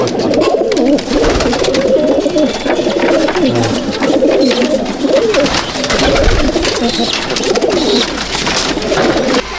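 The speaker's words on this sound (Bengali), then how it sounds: "এই যে আমার পুরোনো লাইনের জেড স্প্রিং পায়রা, বাংলাদেশের কালশিরা ছাপদার" Jed spring pigeons, an old Bangladeshi line, cooing steadily in a loft, many overlapping birds close by forming a dense continuous murmur of low coos throughout.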